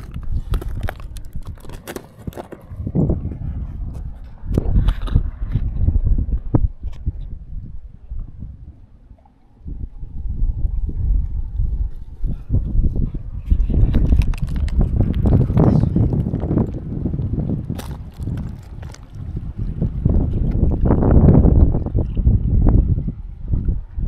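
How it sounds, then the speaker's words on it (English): Strong wind gusting across a hilltop above a lake, buffeting the microphone in heavy rumbling bursts with a short lull near the middle, loud and continuous with no talking. "Windy up here."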